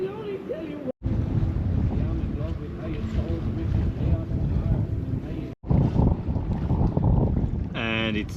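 A sailboat arrives at anchor at sunset in wind with the genoa partly out; heavy wind buffets the microphone over rushing water and low hull rumble, with a short dropout mid-clip and a person speaking.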